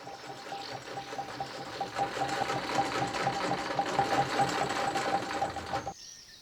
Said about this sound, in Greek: Η ραπτομηχανή, σαν το μολύβι της μνήμης, συνεχίζει και γράφει στους αιώνες.